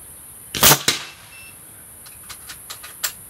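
Air rifle firing pellets from a magazine: two sharp, close cracks in quick succession, then several fainter clicks and a light snap as the gun is worked.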